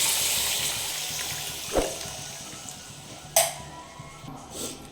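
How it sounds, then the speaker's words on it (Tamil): Dissolved tamarind water being poured into a dried fish curry. A soft watery sizzle fades at the start, followed by a couple of sharp splashy clinks and a brief gurgle near the end. "புளியை கரைச்சி ஊற்றிக்கலாம் ஃப்ரெண்ட்ஸ்."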